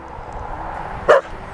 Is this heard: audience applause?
no